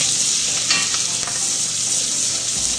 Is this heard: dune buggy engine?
no